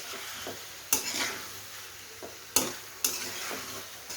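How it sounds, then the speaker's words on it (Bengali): Cauliflower curry with spices and fried potato pieces stirred in a pan, heard as a few sharp scraping strokes and soft rustles over a faint sizzle, close and quiet, with no talk. "এই ফুলকপিটাকে সবগুলো মশলা যেন ফুলকপির গায়ে লাগে সেভাবে নেড়ে দিয়ে দেব ভেজে রাখা আলুর টুকরোগুলো।"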